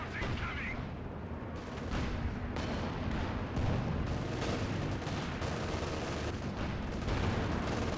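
Battle din from Company of Heroes 2 on the Across the Rhine map, a 3v3 match with Panther and T-34 tanks: steady dense gunfire and artillery rumble throughout, with speech faintly in the mix.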